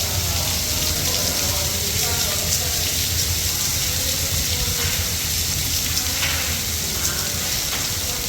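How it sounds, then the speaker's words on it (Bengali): Heavy rain pours steadily at an airport during a storm, a dense, continuous broadband hiss of large drops with no pauses, loud and close throughout. "সুন্দর বড় বড় পানির ফোঁটাগুলো পড়তেছে।"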